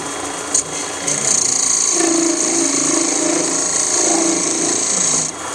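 A wood lathe runs steadily while a Christmas tree ornament is turned, with a loud, continuous high whine and a scraping, rubbing tool sound that begins after about a second.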